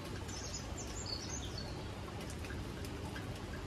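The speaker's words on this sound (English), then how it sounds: "Well, the birds are still chattering and it's raining." Steady rain falling outside an open window, a soft continuous hiss with faint bird chirps and chatter in the distance.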